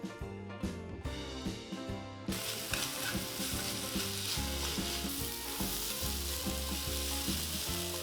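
Cabbage stir-frying with pepper and oyster sauce in a hot pan, a loud continuous sizzle that swells sharply partway through, with clattering stirring over a background music bed.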